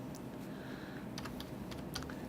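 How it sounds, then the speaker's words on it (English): Steady typing on a computer keyboard, a quick run of soft, close key clicks with no talking, over a faint constant hum. "I will do it from my keyboard, and that from the keyboard."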